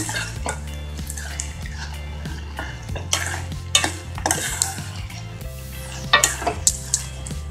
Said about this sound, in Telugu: ఇలా కొద్దిగా నెయ్యి వేసుకొని ఈ విధంగా కలుపుకోండి.